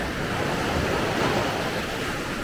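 Sea waves at Akçakese beach in Şile, Istanbul, rush and wash continuously as a dense, loud surf roar with wind noise mixed in.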